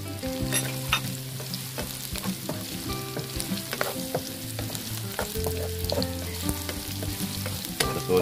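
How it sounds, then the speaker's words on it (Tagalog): Ginger sautéing in a pan, a steady sizzle of frying with scraping stir sounds and utensil clinks throughout, close and continuous with no talking. "Tutuloy lang po natin saglit yung ating luya para lumabas yung aroma, yung kanyang bango."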